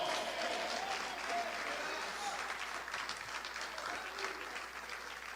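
A church congregation claps together in dense, sustained applause that fills the room evenly for several seconds, steady and loud with a faint voice underneath.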